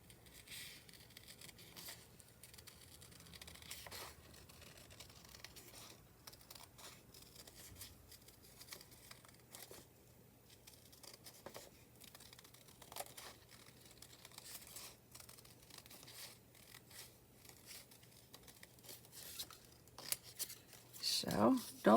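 Scissors snip through a paper page border in quiet, scattered short cuts with faint paper rustling, close and soft, a voice speaking now and then.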